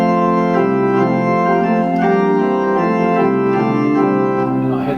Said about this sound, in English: So if I had that nice sound of the flutes and the plein jeu,